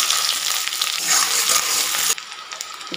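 Cumin and finely chopped onion frying in hot oil give a loud, continuous crackling sizzle close by, which drops away sharply near the end.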